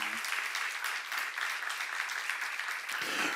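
Congregation members at a church teaching session clap together in a brief, steady burst of applause that fills the whole moment, with a murmur of voices beneath.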